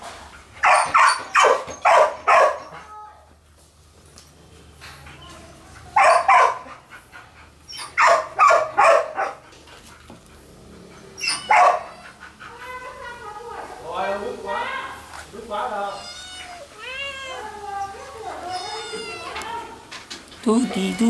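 Nearly grown kittens being weaned from their mother cry in a series of plaintive mews, close by, following several short loud bursts at the start.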